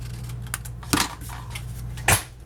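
Scissors cut paper for a handmade album cover, giving a few soft snips and two sharper, louder cuts close by, with no talking.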